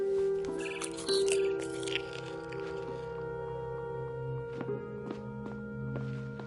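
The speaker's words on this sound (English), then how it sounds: "Then I heard chirping outside my window." A barn swallow in What Remains of Edith Finch gives a short burst of bright chirps early on, then a few faint, sparse calls over a steady low droning tone.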